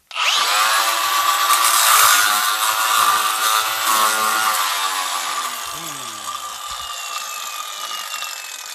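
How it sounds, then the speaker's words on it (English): Die grinder cutting on a Bertram 33 boat, a loud, steady high-pitched whine that starts abruptly, holds strongly, then eases slightly in pitch and level toward the end. "I think I'm going to use a die grinder."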